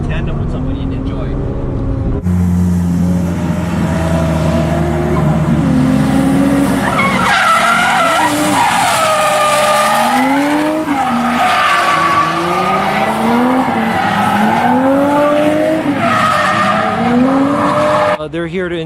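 Drift cars skid around Nikko Circuit in tandem, with loud tire squeal and rising and falling engine revs that keep on without a break, while someone talks over it throughout.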